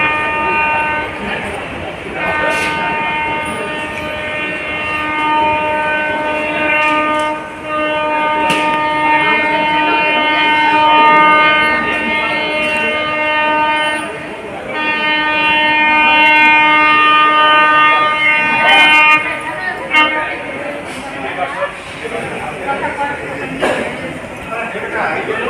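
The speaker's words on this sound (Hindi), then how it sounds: "दूर से देखने पे WAG 5 लग रहा है, देखते हैं कौन सा है। नहीं, ये WAG 9 है।" Electric train hauled by a WAG 9 locomotive arriving at Prayagraj Chheoki Junction, its loud, sustained horn blaring in long steady blasts over rumbling rail noise, with brief clanks in between.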